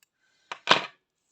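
Two quick scissor snips cutting crochet yarn, a short click followed by a fuller crisp snip, close and isolated in quiet.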